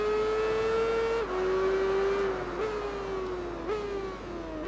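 A superbike engine screams at high revs in the Tourist Trophy racing game, holding a steady tone broken by several quick gear shifts that drop the pitch before it climbs again.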